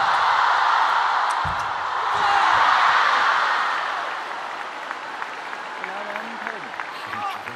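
Table tennis crowd at the ITTF Mixed Team World Cup applauding after a long rally, a broad swell of clapping that peaks then fades under a commentator's voice.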